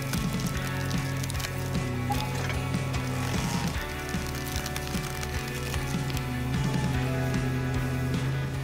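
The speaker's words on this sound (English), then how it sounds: "The screw helps separate the log into pieces smoother than ever." A hydraulic screw log splitter with a 630 cm3 hydraulic motor driving its screw into wood, a steady mechanical drone with rhythmic clicking and creaking as the log gives way, continuous and close.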